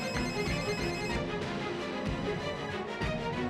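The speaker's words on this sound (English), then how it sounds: "just as he set the phone down, it rang again." A telephone rings steadily over a dense background of music and ambience, the ring repeating throughout without pause in a tense movie scene.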